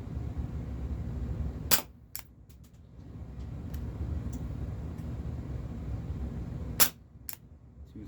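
Walther PPS air pistol shooting aluminum BBs outdoors: two sharp, snappy cracks several seconds apart, each followed by a faint pop, over a steady low rumble of background noise.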